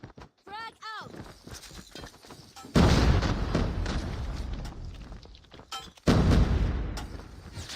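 Frag grenade explosions in a Call of Duty Mobile tournament match, two loud, broadband bursts with long rumbling decays, following quieter game effects and a voice cue; a commentator talks over parts of it.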